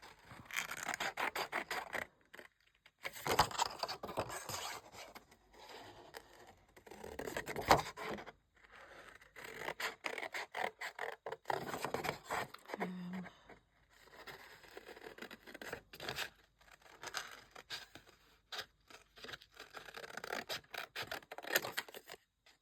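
Scissors cut out a paper shape for a junk journal, giving close, quiet scratchy snips and rustling in repeated bursts with short silent gaps. No one speaks.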